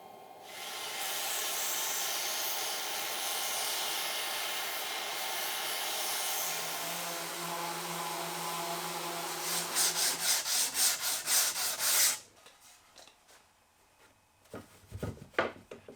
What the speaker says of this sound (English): then went over to my sander to clean it up